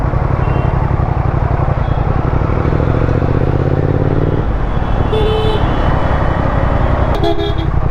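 A Triumph Speed Twin 1200 motorcycle riding through city traffic, with a loud, constant roar of engine and wind rush, and short car horn toots breaking through near the end.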